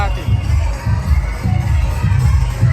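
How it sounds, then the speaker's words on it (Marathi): A crowd of revellers cheers and shouts along a Rayba Devi yatra procession, a dense, continuous roar of many voices close by with surging bursts throughout, alongside talking. "या साईडला फुल जल्लोष चालला त्यांचा बघा"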